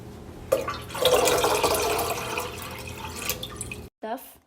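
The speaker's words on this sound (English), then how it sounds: "We add 6 cups of water." Six cups of water pour into a pot for boxed mac and cheese, a splashing, gurgling stream that runs steadily for a few seconds, then cuts off, followed by a brief clink.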